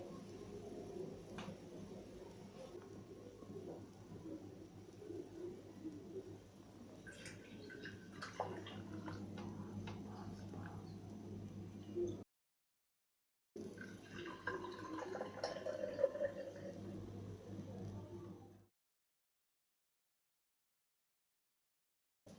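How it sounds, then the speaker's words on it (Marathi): Homemade lime mint juice poured into a glass, a soft continuous trickling and splashing of liquid, faint and close, with a brief break partway before the flow ends and silence follows. "आता काय करायचं आहे ह्या ग्लासमध्ये आपल्याला ओतून घ्यायचं आहे"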